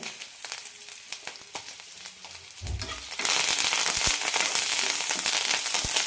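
Curry leaves and five chilies dropped into hot oil for peanut idli podi, light crackles at first, then a loud dense sizzle bursts up and continues with sharp pops, close by.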